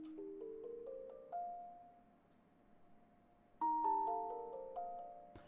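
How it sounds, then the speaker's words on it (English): A resonator music box patch from the Spitfire Labs plugin plays two short ascending melodic runs of bell-like plucked notes that ring and sustain, the second phrase entering louder after a brief fade, with a quiet voice in the background. "I first made then this music box resonator."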